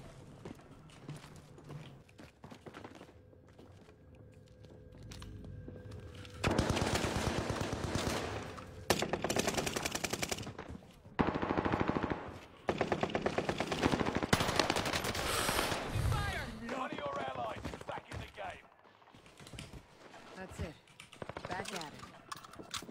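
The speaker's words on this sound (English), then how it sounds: "Where were you being shot at, Sam?" Bursts of automatic gunfire and single shots ring out in a multiplayer shooter video game tournament, loud rapid fusillades coming and going over several seconds while players talk over the action.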